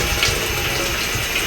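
Water drains from cooked chicken for homemade bread pizza rolls, making a continuous splashing, trickling pour at close range with no talk over it.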